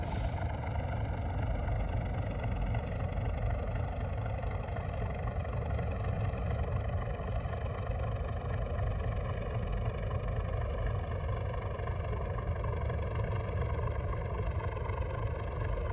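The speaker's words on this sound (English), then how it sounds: "Your train's louder than my bus." A Class 37 diesel locomotive drones steadily in Train Simulator, its engine note loud, continuous and close throughout, with no talk over it.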